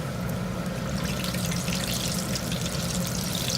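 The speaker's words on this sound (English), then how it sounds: "I'm going to carefully drop these into the oil individually" Breaded onion rings hiss and sizzle steadily as they are lowered one at a time into hot frying oil, a continuous bubbling crackle that grows busier in the second half.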